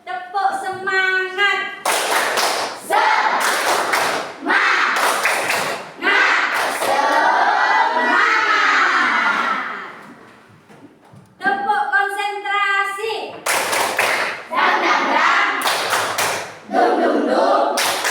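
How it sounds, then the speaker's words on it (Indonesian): A class of children does the rhythmic 'tepuk semangat' spirit clap, bursts of loud unison clapping in set patterns alternating with children chanting together, all close and lively. "kita tepuk semangat dulu ya"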